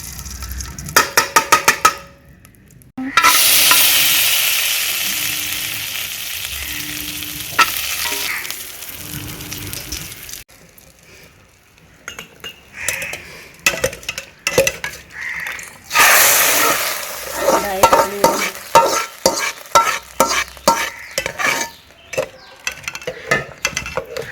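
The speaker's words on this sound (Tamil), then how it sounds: "இந்த பூரி போட்ட சட்டியிலையே இந்த முந்திரியை தாளிச்சு" Cashews fry in oil in the same pan used for frying puris, a loud close sizzle interrupted by a lull, then a run of rapid stirring clinks and scrapes.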